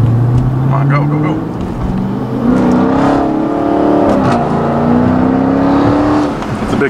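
A Dodge Challenger TA 392 pulling away on a wet road, its engine note climbing steadily through a rising whine, with a person talking over it inside the car.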